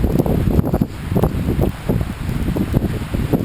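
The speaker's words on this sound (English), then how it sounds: "Some crazy ass wind here, man" Strong wind gusting on the west side of Salt Spring Island, buffeting the microphone in rough, uneven bursts with rustling underneath, loud and close throughout.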